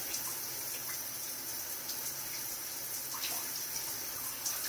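Water poured over the fibers of a hand-tied cap wig during washing, a steady soft pouring and trickling wash that runs without a break, close and fairly quiet.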